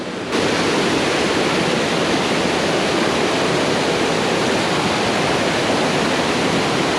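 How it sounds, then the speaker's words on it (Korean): Roaring natural waterfall in a mountain valley, a steady loud broadband rush of falling water that stays constant throughout, close by and with no voices. "자연 폭포다 완전히"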